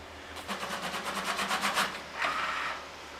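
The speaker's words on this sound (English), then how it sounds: "So, it's calibrating the printer." An HP OfficeJet Pro 8500A printer calibrates, its print head moving in a rapid run of evenly spaced mechanical strokes that build and then stop, followed by a softer whirring pass.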